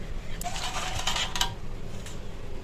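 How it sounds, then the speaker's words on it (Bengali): Clean water splashes and runs over an old, heavily soiled iron tawa griddle during rinsing, with steady close wash noise and a few light metallic clinks scattered through. "এবার পরিষ্কার জল দিয়ে 2-3 বার ধুয়ে নেব।"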